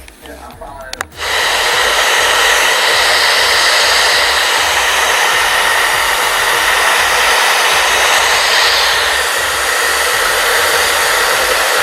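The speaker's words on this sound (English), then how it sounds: "I am just drying her hair on cool with the dryer" A hair dryer on the cool setting dries hair laid flat under a glued-down stocking cap. After a brief click it starts and then holds a loud, steady, close-up whooshing roar, alone, for the rest of the clip.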